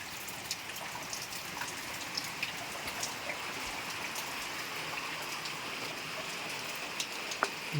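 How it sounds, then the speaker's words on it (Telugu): Heavy rain falls steadily, a constant hiss with scattered sharper drops striking nearby surfaces; no voices. "వాన వచ్చింది ఫుల్గా వస్తుంది"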